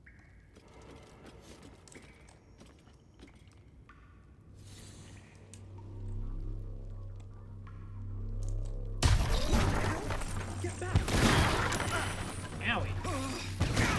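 Explosions in the video game Baldur's Gate 3 start with a low rumble, then a loud crashing blast breaks out and keeps roaring with further bursts, under a few spoken words.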